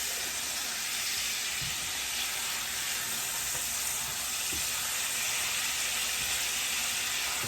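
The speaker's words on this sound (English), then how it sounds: "Cook for 1 to 2 minutes until the aroma of alcohol dissipates" A steak pan sauce sizzles steadily as the alcohol cooks off, a continuous close hiss and crackle with a few faint clinks underneath.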